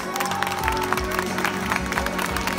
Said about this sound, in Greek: Ένα χειροκρότημα για τον Κώστα θερμό.